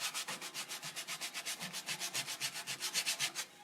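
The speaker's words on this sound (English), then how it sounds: "I could sand a bowl for 20 minutes" Sandpaper rubbing a wooden bowl spinning on a lathe, using 120 grit, in steady rapid back-and-forth strokes, close and fairly quiet, with no talking.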